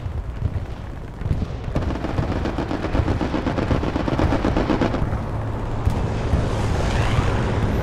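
Sustained machine gun strafing fire in the World War II shooter Hell Let Loose, rapid dense bursts with heavy rumbling blasts underneath, loud and continuous from about two seconds on with a brief lull near five seconds.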